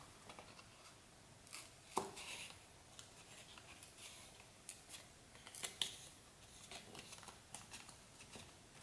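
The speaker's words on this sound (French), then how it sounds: "je vais redonner un petit coup de ciseau sur le côté" Scissors cut a watercolour paper card with quiet, close snips and scraping strokes, scattered unevenly in a near-silent room.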